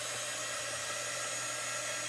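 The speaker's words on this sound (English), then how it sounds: "I'm just going to use my little dryer here to speed it along" A small hair dryer runs steadily throughout, blowing on wet chalk paste over a stencil on a beach-themed shadow box, its even motor whir and rushing airflow unbroken and close by.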